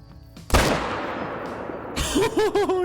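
A single loud hunting rifle shot at a whitetail buck in Call of the Wild, a sharp blast that rolls into a long echoing tail, followed by a brief rattling clatter and muffled thumps.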